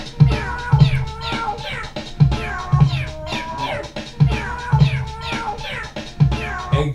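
A cat's recorded meows are cut into a looping song, with the same pattern of meows and thumping beats repeating about every two seconds, loud and close.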